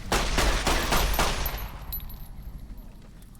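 Gunfire from the player's gun in Fallout New Vegas: several close, loud rapid shots in the first half, tailing off into a fading reverberant decay.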